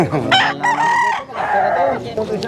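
A rooster crows loudly and close by at a livestock market, drawn-out calls mixed with chickens clucking.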